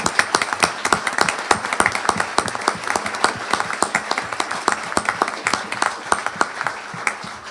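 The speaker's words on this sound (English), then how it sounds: "Let's give them a round of applause." A room of people applauds election candidates as they stand, the clapping steady and fairly close for the whole stretch, with sharp individual claps popping out of the crowd.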